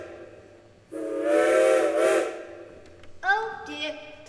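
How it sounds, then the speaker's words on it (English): A steam train whistle sounds as a stage effect in a youth dinner theatre production of Alice in Wonderland: one long, loud, sustained hoot that fades, then a second higher, shorter whistle blast with a hiss. "It's almost time, the train's here."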